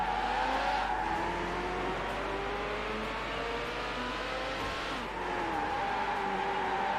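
Red McLaren F1 racing at speed in Need for Speed Hot Pursuit 2, its engine whining steadily with rising and falling revs through gear changes, loud and close, joined briefly by tire noise and no talking.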